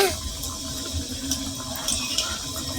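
Litti fry in a pan over a low gas flame, producing a soft, steady sizzling hiss with faint crackles close by.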